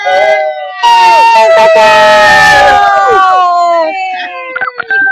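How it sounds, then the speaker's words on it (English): Crowd on a video call unmuted all at once, cheering and yelling yay with overlapping sung whoops and voices at full volume throughout, ending in scattered shouts. "let's give a round of applause and a yay to Rebecca Ingebrigtsen who went Emerald"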